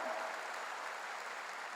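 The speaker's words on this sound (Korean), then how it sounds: "박수로 하나님께 영광 돌려" Church congregation clapping together during a Sunday worship service for a peace and reunification prayer meeting, a steady, fairly faint wash of applause held evenly throughout.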